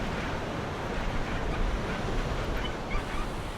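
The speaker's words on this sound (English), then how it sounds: "We've just got it at a bad time with the wind and the waves, I think." Strong wind and breaking ocean waves fill a beach at Esperance, Western Australia with a dense, continuous rushing roar and no voices.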